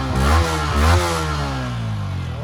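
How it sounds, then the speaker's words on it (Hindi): Exhaust note of a Yamaha MT-15 V3 motorcycle with self start, two short revs rising then settling into a steady, close, loud idle with no talk. "एग्जॉस्ट नोट एमटी का सुनते हैं।"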